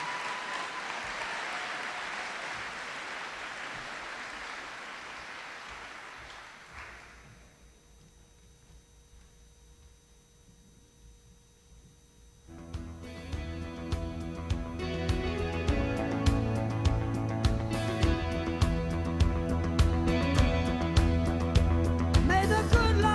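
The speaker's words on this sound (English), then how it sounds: "Let's give them one last round of applause." Applause for the graduating class at a Brandon Valley High School academic awards ceremony, a dense crowd clapping for about seven seconds before fading out, then giving way to loud music.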